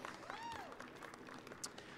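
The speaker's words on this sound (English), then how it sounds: "Round of applause, everyone." Crowd applause and cheering outdoors at a holiday lighting event at Nela Park, a faint, diffuse spread of clapping with a whistle or whoop rising over it and a few scattered voices.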